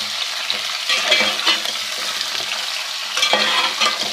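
Fish heads frying in a pan give off a steady, close sizzle with occasional scraping stirs throughout.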